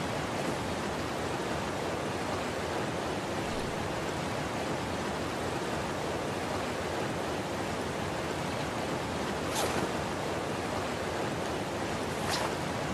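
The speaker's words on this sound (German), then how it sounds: "Natürlich wird es jetzt ein bisschen laut wegen dem Wasserfall." Steady roaring rush of a waterfall in the video game ARK (Crystal Isles map), broad and constant throughout, with a couple of brief high clicks near the end.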